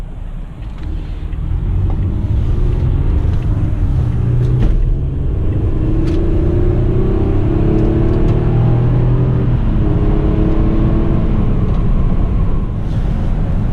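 2013 Toyota Camry XLE V6 under way, its engine making a loud, close, low rumble that climbs in pitch as it accelerates, with road and wind noise behind it and no talking.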